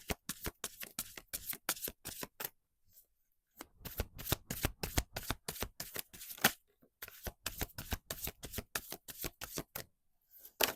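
Oracle cards are shuffled close up in quick crisp riffling bursts, with two brief pauses between the runs of rapid slapping flicks.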